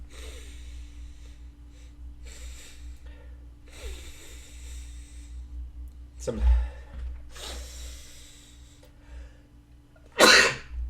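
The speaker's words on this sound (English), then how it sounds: "I gotta sneeze right now." A sharp sneeze bursts out near the end after a quieter sniff-like snort earlier, with soft breathing and faint background hum between.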